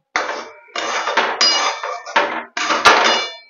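Plates and utensils clatter in several separate bursts while potato-onion posto is being served, with sharp clinks close by and no talking.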